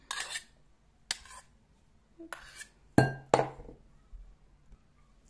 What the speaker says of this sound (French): Désolée pour les bruits de métal.